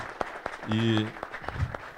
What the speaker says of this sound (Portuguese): Pessoal, uma salva de palmas para eles aí.